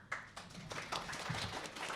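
An audience claps in scattered, uneven bursts that build into steady applause, moderately distant and fairly soft.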